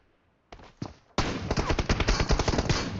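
Gunfire in PUBG Mobile: two short shots, then a dense, loud automatic burst of rapid rounds that keeps going to the end, with no talking.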